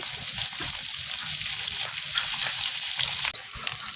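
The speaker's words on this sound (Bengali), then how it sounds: "মাছগুলোকে লবণ হলুদ মাখিয়ে রেখেছিলাম সেটাই এখন ভেজে নিচ্ছি" Pieces of fish rubbed with salt and turmeric frying in hot oil, a steady close crackling sizzle that drops slightly near the end, with no talking.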